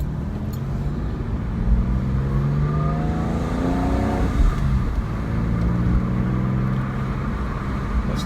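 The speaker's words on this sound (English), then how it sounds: "this is the first drive in the Porsche, and I'm gonna let it warm up for a bit" Porsche engine fitted with a sports exhaust idles loudly while warming up at close range, a steady deep rumble with a slight rise in revs partway through and no talking.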